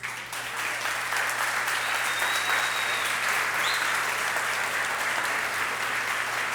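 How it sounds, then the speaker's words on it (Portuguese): A church congregation claps together in a steady, dense round of applause that holds at an even level throughout, with no voices rising above it. "Vamos aplaudir os professores?"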